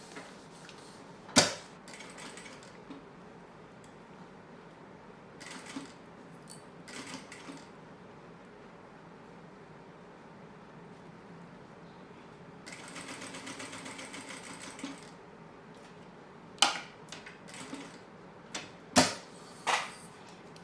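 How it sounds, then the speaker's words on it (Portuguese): An industrial sewing machine stitches a cosmetic bag in one short steady run lasting a few seconds, framed by scattered clicks and handling knocks of fabric and parts in a quiet room. "Eu vou ir costurando por dentro, assim, ó, que vai facilitar pra mim o meu processo na hora de costurar, porque eu tô com a máquina industrial."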